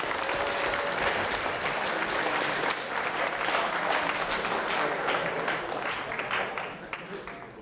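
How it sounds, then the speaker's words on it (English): Audience at a developer conference talk applauding, a loud, sustained roll of clapping that holds steady for several seconds before easing off at the end. "I want you all to gratuitously give yourselves a massive round of applause for the great things you've done."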